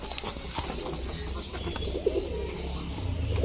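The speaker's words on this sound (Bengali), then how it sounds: "বাবা কবুতরটা কিভাবে আদার খাওয়াইতেছে দেখেন" Pigeons coo softly as a parent bird feeds a day-old chick ginger, a low steady murmur with faint chirps and wing rustles over continuous background noise.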